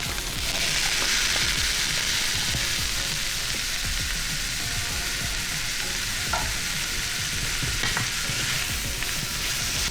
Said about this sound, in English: I'm going to add in my onions as well as my garlic. I'm gonna give those a good stir